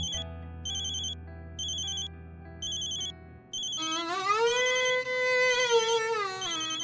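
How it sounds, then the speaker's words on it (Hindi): A mobile phone ringtone goes off in a police station office: a bright repeating beeping pattern in short evenly spaced bursts, then a sweeping melodic tune, loud and clear with no talk over it. "आपका फोन है।"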